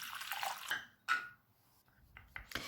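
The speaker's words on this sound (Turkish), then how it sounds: "Sıcak su döküyorum." Hot water poured into a container, a close splashing trickle with a sharp burst of liquid partway through, then quieter drips and pours.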